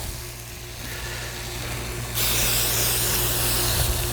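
Cooking spray hisses onto a hot Blackstone griddle, a steady low hiss that jumps to a louder, brighter spray burst about halfway through and continues close to the mic, with a machine hum underneath and no talking.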